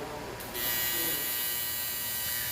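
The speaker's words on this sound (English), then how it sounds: "I'm tacking the 1-inch return line to the tank right now" TIG welder set to AC tacking a 1-inch aluminum return line onto an aluminum fuel tank being converted to a hydraulic reservoir: a steady electric buzz that starts abruptly and holds at close range, with no talk.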